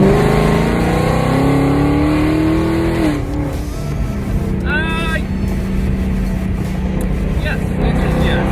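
A car fitted with Kooks long tube headers revs up, its exhaust climbing in pitch for a few seconds before dropping back to a rough idle, with brief talking mixed in.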